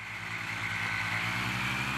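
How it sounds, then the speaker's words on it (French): A small propeller motor on a powered glider drones steadily with a pulsing low throb and a high whining buzz, continuous and fairly close, with no voices. "muni d'un petit moteur à hélice et d'une voile"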